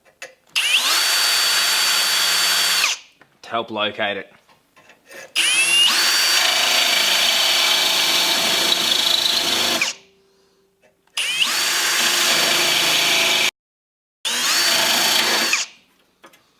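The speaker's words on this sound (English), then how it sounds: "drilling a small hole" A power drill whines in several bursts while drilling a small hole in metal on a crashed Toyota 86, pausing between runs, with a short scraping rattle in one gap and a brief spoken remark.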